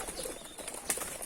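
Pigeons in a cage of local and fancy pigeons flap their wings in soft, fluttering bursts close by, with one sharper beat near the end.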